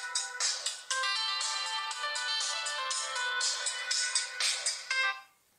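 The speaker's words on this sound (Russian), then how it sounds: "Сейчас зайдем в какие-нибудь рингтоны." A Doogee X5 smartphone plays a bright, melodic ringtone at close range, a rhythmic run of chiming electronic notes lasting several seconds before cutting off abruptly at the end, with no talking.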